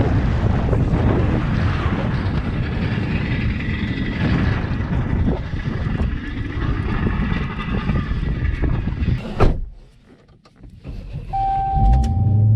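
A Dodge Charger Hellcat's engine rumbles loud and low, mixed with heavy wind buffeting for most of the stretch. It drops briefly near the end before the noise returns, with no talking.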